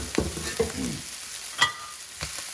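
Leftover rice stirred in a sizzling pan with greens and vinegar, a steady fry hiss broken by several scraping, clattering strokes of the spatula, close and clear, with a brief voice near the start.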